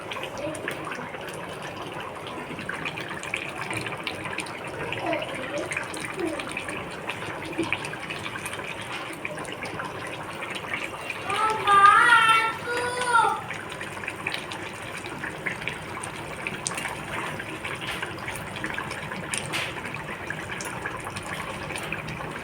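Rohu fish slid into boiling curry broth with potatoes in a home kitchen: a low steady simmering bubble throughout, with a brief louder splash and sizzle of liquid near the middle.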